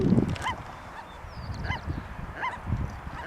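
Geese on a river in Mendocino give three loud nasal honks about a second apart, near and clear over a soft background of moving water.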